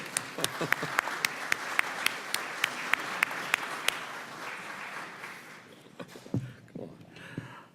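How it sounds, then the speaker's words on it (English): A small group claps briefly in an indoor committee markup room, a scattered round of applause with sharp, uneven claps that fades out after a few seconds. "Doesn't anybody want to applaud the gentleman?"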